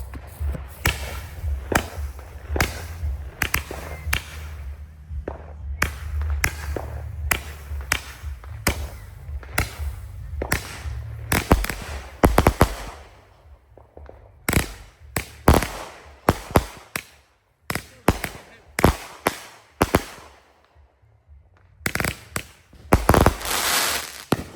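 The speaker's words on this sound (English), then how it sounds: "the 36 shot mini golf by Space Ranger, 200 gram cake." A 36-shot Space Ranger Mini Golf 200 gram fireworks cake fires a long string of sharp, loud reports, dense and rapid at first over a low rumble, then spaced bursts with brief gaps and a final quick flurry.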